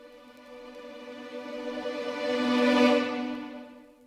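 String swell one-shots panned hard left and right in FL Studio for a 2000s R&B beat, a sustained bowed chord that builds gradually to a loud peak near the end before fading, alone.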